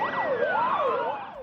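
Police car siren during a city street chase, loud and near, a steady rising-and-falling wail sweeping up and down about twice in a second and a half, with no voices.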